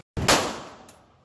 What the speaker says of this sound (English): This is your first time shooting 9mm.